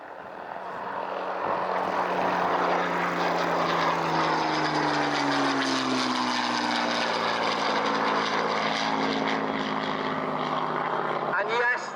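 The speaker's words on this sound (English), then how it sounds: "And this one is the Suffolk Spitfire." Supermarine Spitfire flying past at the Old Buckenham air show, a loud continuous propeller-engine roar that rises and holds with a sliding engine tone, heard close and steady throughout.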